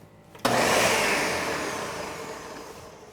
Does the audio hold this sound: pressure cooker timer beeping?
no